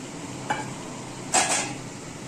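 Broken wheat (dalia) tipped into a pan of frying vegetables and stirred, giving two short clattering scrapes of spoon against metal about a second apart over a low background.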